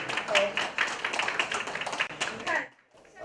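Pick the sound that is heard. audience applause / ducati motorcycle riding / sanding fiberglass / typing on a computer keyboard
audience applause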